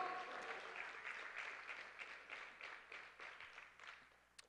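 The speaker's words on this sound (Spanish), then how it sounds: "Le doy un aplauso al Señor" A church congregation applauds during a Spanish-language sermon, a soft, even patter of many hands heard from a distance, swelling at first and then slowly thinning out.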